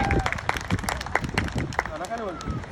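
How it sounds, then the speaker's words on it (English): Audience clapping for a volunteer at a Hawaiian luau, scattered claps and a crowd mixed with voices and cheering, fairly close and moderate in level. "One more time, round of applause for a volunteer today"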